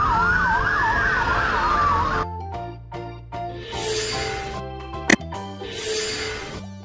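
A police motorcycle siren wails on a London street, loud and close for about two seconds in a rising and falling sweep, then breaks off into traffic and street noise with a brief sharp burst near the end.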